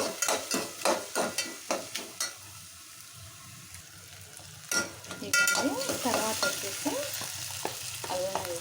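Ginger paste fries in a pan with onions, cumin and bay leaf for a mixed vegetable kurma, starting with a run of rhythmic stirring scrapes, then settling into a steady close sizzle with occasional spoon strokes.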